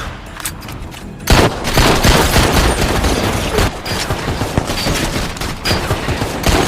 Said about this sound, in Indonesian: Ling Fang yang berhasil mengejar Tom, hingga aksi tembak-tembakan antara mereka berdua pun tak terhindarkan.